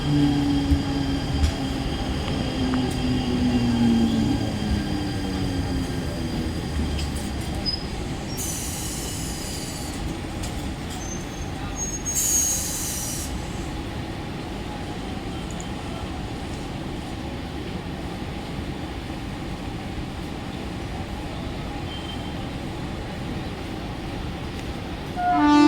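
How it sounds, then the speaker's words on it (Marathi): A Mumbai slow local train, bound for Thane, at the Vikhroli station platform: steady, loud rumble of wheels and carriages with squealing wheels throughout, brief hiss bursts partway through, and no talk. "प्लॅटफॉर्म क्रमांक 1 पर आई हुई लोकल 1:38 की ठाणे जाने वाली धीमी लोकल है।"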